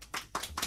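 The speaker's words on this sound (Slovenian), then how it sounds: "En aplavz." A short burst of clapping at a women's self-defence class, three quick claps of hands close by, no voices over it.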